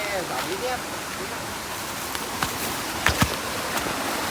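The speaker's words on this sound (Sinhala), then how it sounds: "අපේ දොල බලාගන්න" A small village stream flows near a friend's house, a steady close wash of running water that fills the whole stretch, with a few brief knocks and faint voices breaking over it.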